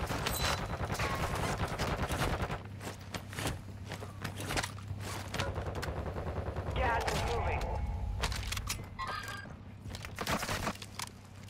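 Rapid gunfire in a shooter video game crackles in repeated bursts of shots under steady background game noise, with a player talking over it.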